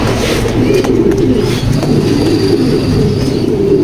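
A female racing pigeon in a loft, alongside other birds, gives low coos within a steady, busy murmur of close bird noise, with a faint background rumble and no talking.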